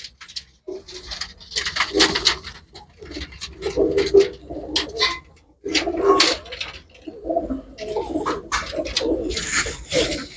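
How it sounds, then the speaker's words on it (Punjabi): Pigeons kept for sale coo in repeated low, throaty phrases close by, several birds overlapping in bursts with short pauses between them. "ਆਹ ਲਾ ਕਬੂਤਰ ਚੈੱਕ ਕਰੋ ਜੀ"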